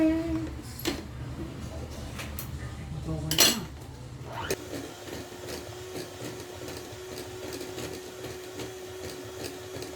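Cooked chocolate being mixed into cake fillings in a bowl, with scraping and clinking of a utensil against the bowl, a few sharp knocks early, then a steady background hum.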